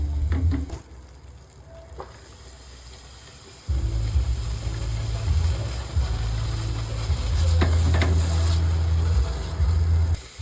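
Mixed vegetables with butter cook in a pan, a steady close sizzle that cuts out briefly near the start, then returns loud and continuous with a few stirring scrapes.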